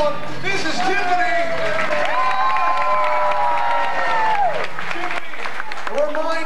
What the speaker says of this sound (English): a huge round of applause for our slime star